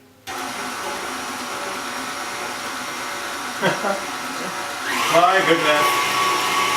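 An electric mixer whirs steadily, whisking an Oreo cheesecake batter of eggs and cream, a constant close motor drone with small shifts in pitch as the thick mixture loosens, and someone speaks briefly over it.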